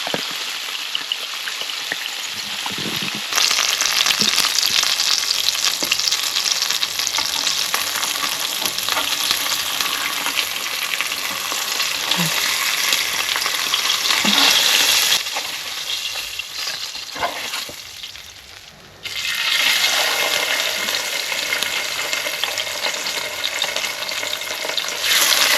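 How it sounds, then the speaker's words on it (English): Filipino-style fried rice sizzles loudly in a hot pan, with dense crackling and scraping stirs throughout, a brief dip in the frying near the end before it resumes, and no talking. "this is how we make our fried rice in the Philippines."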